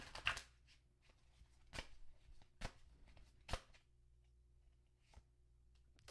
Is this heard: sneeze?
no